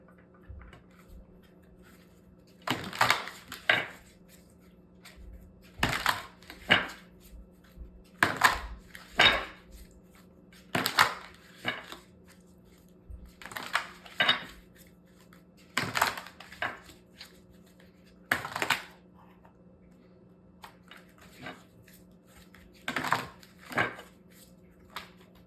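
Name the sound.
shuffling and pulling tarot cards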